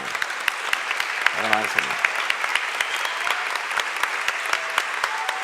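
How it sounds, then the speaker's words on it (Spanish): An audience at a talk on language industries and language tourism applauds with steady, dense clapping throughout, while a voice briefly speaks a name over it. "un aplauso para"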